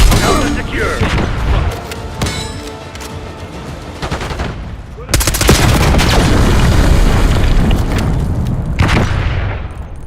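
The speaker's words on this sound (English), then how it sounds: "Watch out, grenade!" Grenade explosion in a video game gunfight, with heavy booms and bursts of gunfire throughout and a big blast midway that stays loud, while voices call out over the action.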